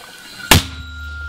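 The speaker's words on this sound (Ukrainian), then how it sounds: "Постріл!" A mortar crew fires a single shot: one sharp, loud blast that rises abruptly from a quiet background and trails off into a short low rumble.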